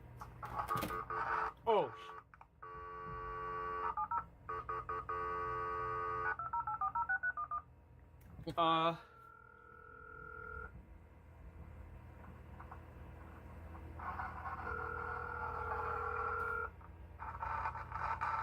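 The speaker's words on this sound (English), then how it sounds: "We're gonna try dialing into something. Okay, dial." Telephone line dialing tones from a handset on a working line: a string of steady DTMF beeps and held tones, some warbling, loud and close, with a brief spoken exclamation.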